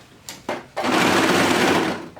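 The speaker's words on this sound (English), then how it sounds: "I'm just gonna sew along the top." A sewing machine stitching along the top edge of stretchy fabric: two short stuttering starts, then a loud, steady, fast whirring run of stitches for over a second before slowing off.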